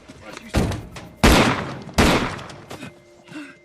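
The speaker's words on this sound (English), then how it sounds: "Sandy and Arvin then shoot each other at the same time" Gunshots in a film as two people fire at each other at the same moment: three loud, sharp bangs roughly 0.7 seconds apart, each trailing off into a brief rumbling decay, with a faint tonal hum beneath.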